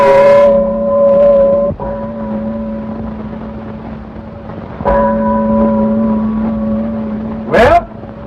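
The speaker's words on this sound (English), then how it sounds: "Well, there goes the bell." A bell rung to call breakfast in a 1933 western: three loud strikes, each followed by a long, ringing decay, with a brief rushing swish near the end and no talk.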